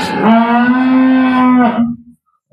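A single loud, drawn-out cow moo at a dairy farm, close by, holding a steady tone for about two seconds before tailing off into silence, with no talk.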